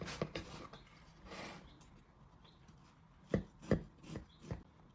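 A knife cuts a piece out of a layered Polish pleśniak cake, making soft scraping strokes followed by a few sharp taps against the plate or tray, quiet and close.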